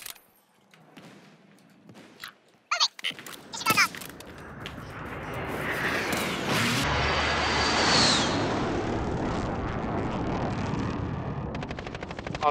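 Gunfire and a blast in Call of Duty Warzone: sharp loud cracks early on, then a sustained roaring rumble of an exploding truck that fills the rest of the clip, with faint voices in the background.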